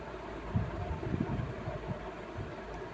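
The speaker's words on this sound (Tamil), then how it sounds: "ஃபேன் சத்தம் கேட்கும்" An electric fan with a worn bearing runs steadily, giving a continuous low whirring hum with a faint rumble and no voices.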